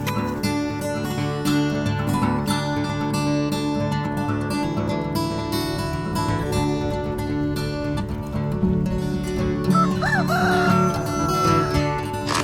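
On a small family farm, chickens cluck in the background while a rooster crows in a few drawn-out calls, all heard beneath a steady layer of music.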